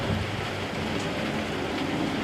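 Steady, dense rain pouring down in a continuous hiss, with no talking over it.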